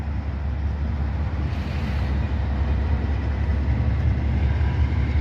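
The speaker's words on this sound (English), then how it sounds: "You can hear that DPU roaring." A Norfolk Southern distributed power locomotive on a long, heavy freight train roars past, a loud, continuous low rumble and drone with steady rolling noise and no break.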